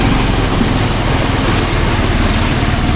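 Yamaha Mio motorcycle engine running in floodwater, a steady close low engine drone with a rough, watery churn throughout, no talk.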